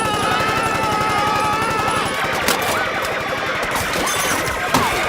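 Cartoon Stewie Griffin fires into a crowded street of trick-or-treaters on Family Guy: long, dense bursts of rapid automatic gunfire, loud and close, with crashes and brief shouts mixed in.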